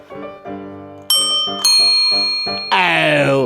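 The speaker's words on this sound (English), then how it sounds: "And look at these bells that you can put on your bike." Bicycle bells in a bike shop ring in a quick series of bright, loud dings, each one sustaining a metallic shimmer, with several different bells tried one after another.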